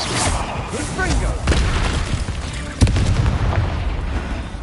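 Confringo explosive spell cast in Hogwarts Legacy, a sharp blast standing out from a steady bed of rumbling game sounds and booming effects, fairly loud and close, with other spell impacts around it.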